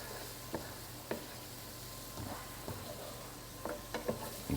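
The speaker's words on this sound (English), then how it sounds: "the peppers were cooking on a medium flame, and I just reduced the flame to a low flame" Peppers and onions sizzle in a pan on a low flame for an autumn casserole, a soft steady crackle with occasional light stirring taps from a utensil.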